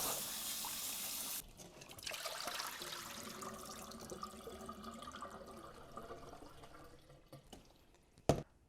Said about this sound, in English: And then a final rinse with water.